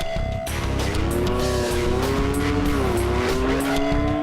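Racing motorcycle at high speed on a record-breaking run, its engine throttling up in a loud, sustained whine that rises and bends in pitch. The sound is close and continuous, with no voices.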